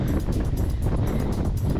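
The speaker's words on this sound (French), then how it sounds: "il y a plein de vent. La mer elle est déchaînée." Strong wind buffets the microphone on a rough seashore in Malta in April, a loud, continuous gusty roar with rumbling low noise and no voices.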